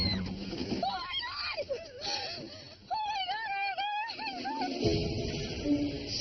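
A woman screams, wails and whimpers in repeated high, wavering cries as she loses control of a car on a driving-competition course, with a low vehicle rumble underneath.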